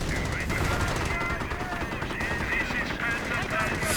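Rapid bursts of gunfire and machine-gun fire crackle through a WWII strategy video game battle with tanks and grenadiers, continuous and fairly loud, with someone talking over it.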